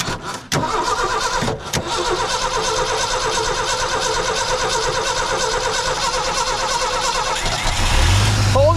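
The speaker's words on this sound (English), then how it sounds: "You know why you're starting? Because the fucking 306 is starting." A 1979 Ford F-250 welding truck with a 306 engine cranks in a steady rhythmic churn for several seconds, then catches and fires into a louder, rougher run near the end, close and loud.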